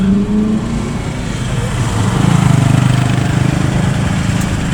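A motorbike engine runs at night on a street in Batam, a steady close rumble that swells slightly midway, with the hum of other traffic in the background.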